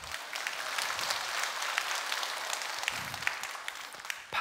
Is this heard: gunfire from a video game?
no